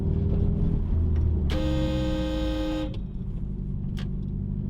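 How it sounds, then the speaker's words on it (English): A Subaru Impreza blobeye's car horn sounds once in a single steady, bright blast lasting over a second, close and loud over a low idling engine rumble. "Oh yeah, that horn's cool, isn't it?"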